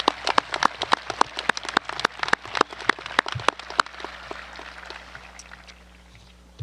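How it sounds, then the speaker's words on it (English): Applause at a high school graduation ceremony, a scattered patter of clapping from a moderately sized audience that thins out and fades toward the end. "let's give her a big round of applause because we wouldn't have today without her"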